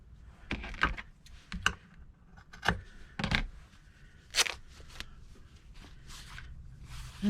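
A strip of muslin fabric about an inch and a half wide being trimmed with scissors, giving several separate crisp snips and rustles spaced a second or so apart, close up and with no talking.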